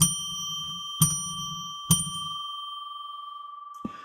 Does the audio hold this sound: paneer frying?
no